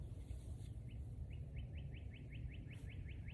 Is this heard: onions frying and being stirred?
no